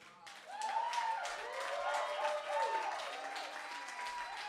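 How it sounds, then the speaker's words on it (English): A poetry slam audience applauds a poet with steady, dense clapping, joined by sustained cheering and whooping tones over the applause. "Please keep that applause going for your penultimate poet of the evening."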